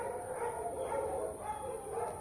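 Dogs bark and yip faintly in the distance at night over a steady background hiss.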